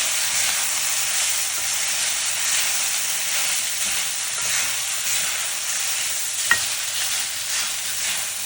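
Sabudana khichdi with fried peanuts is stirred in a pan over a steady, close frying hiss, with soft scraping and one sharp clink partway through.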